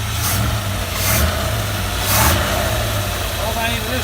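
Early Ford Bronco engine, running again after 26 years, idles loudly and steadily with a deep rumbling exhaust, surging in brief revs about every second; a voice is present beneath the noise.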